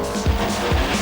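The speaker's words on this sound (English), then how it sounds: "Peter Lindenberg in his Coca-Cola Corvette looked very determined during the qualifying runs" A Coca-Cola Corvette drag car launches at a drag racing championship with a loud engine roar and squealing tyres. Two quick revving surges sit over a dense, continuous mechanical noise.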